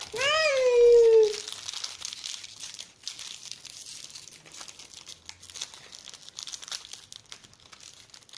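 A plastic toy surprise bag is torn open and crinkled. A short child-like squeal comes at the start, then steady close crackling and rustling of the plastic.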